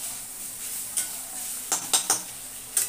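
Chopped banana stem fries in a pan with a steady hissing sizzle, and a few sharp spatula clinks and scrapes stand out near and clear toward the end.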